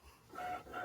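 A Cricut Maker 4 cutting machine pulling in its mat, a short faint motorized whir with brief rising tones lasting under a second.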